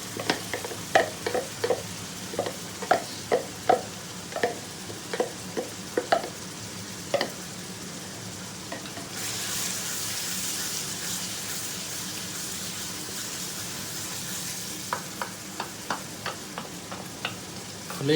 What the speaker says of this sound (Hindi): मिक्स करते रहें, हिलाते रहें, भुनता रहेगा कीमा